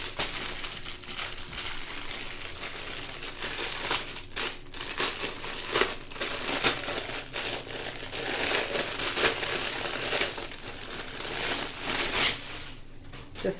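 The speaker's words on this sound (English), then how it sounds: "crinkle alert." Plastic packaging around a tea towel crinkles and rustles continuously, close and fairly loud, with irregular crackling bursts throughout and no talking.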